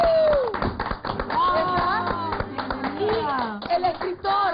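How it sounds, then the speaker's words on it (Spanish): A television talk-show studio audience claps to welcome two guests, rapid scattered clapping running beneath loud overlapping voices and music. "vamos a recibir con un fuerte aplauso a nuestros dos invitados de esta noche"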